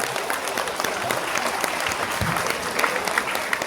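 Dense, steady applause from a crowd at a public Shani puja ceremony, many hands clapping at an even level throughout, close and full, with no voices rising above it.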